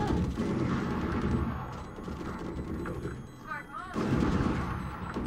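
The Spike detonates in Valorant with a loud burst and booming explosion over game sounds, followed by a second heavy blast; a voice talks faintly underneath.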